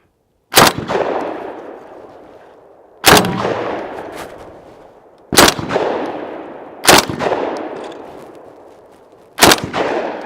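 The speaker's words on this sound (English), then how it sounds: "QBZ shotgun one more time" A QBZ bullpup shotgun loaded with Suprema shells fires at thrown clay targets outdoors: five loud, close blasts spaced about two seconds apart, each followed by a rolling echo that fades before the next.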